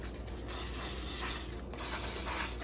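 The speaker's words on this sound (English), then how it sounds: "I'm gonna hit it again with cooking spray" Cooking spray hisses in several short bursts onto raw chicken pieces before they go into an air fryer, each spray lasting about half a second with brief pauses between, close and moderately loud.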